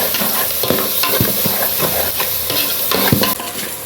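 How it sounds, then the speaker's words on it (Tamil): Onions sautéing in a pan for a chicken biryani with basmati rice: a steady, close sizzle broken by repeated scraping stirs of the spatula, loud throughout with no voices. "வெங்காயம் நல்லா வதங்கி கொண்டு வருது."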